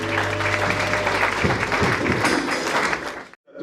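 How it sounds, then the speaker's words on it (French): A church congregation at a pastor's consecration and investiture service bursts into loud, sustained applause and cheering that fills the room, dense and close throughout before cutting off abruptly near the end. "Acclamons très fort le Seigneur."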